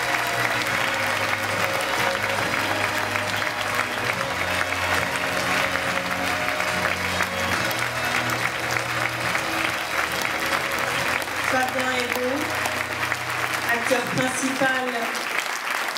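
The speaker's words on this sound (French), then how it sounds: "Vous pouvez les applaudir" Sustained applause from a crowd fills the whole stretch, steady and fairly loud, with some background music and voices underneath.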